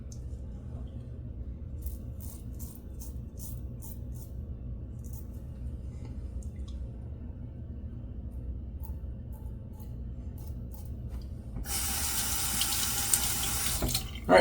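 Tap water runs into a sink to rinse after a shave, a steady low wash that lasts throughout and swells into a louder, brighter gush near the end.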